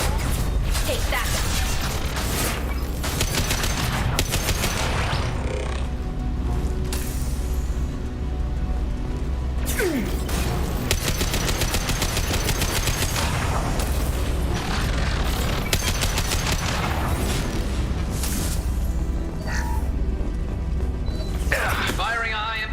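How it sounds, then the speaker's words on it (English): High-impact gunshots in the sci-fi shooter Mass Effect 2 crack out as a string of heavy booming blasts amid clanking mechanical effects and battle noise, loud throughout, with voices talking over the fighting. "Firing a high impact shot."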